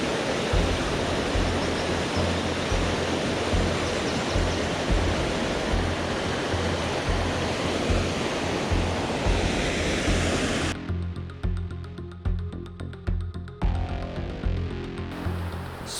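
Rushing white water pours in a loud, dense, unbroken roar close by, and the texture shifts slightly toward the end, with no voices present.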